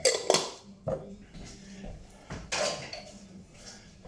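Sauce is stirred in a pot, with a few clattering knocks of a utensil against the metal and softer scraping in between, close and moderately quiet.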